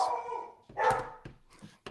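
A dog barks and yips in a few short bursts, close and fairly loud, with brief gaps between the calls and no talk over them.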